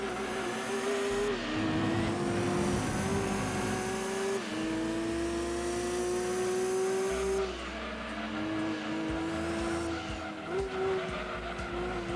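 A Nissan Skyline race car in Gran Turismo 2 revs hard with a steady, droning engine note that climbs and drops through gear changes, while tires squeal and skid throughout the sustained close racing run.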